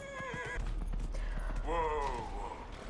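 A horse in the Dragon Age: Inquisition video game whinnies twice, with clip-clopping hooves beneath; a faint voice may be present.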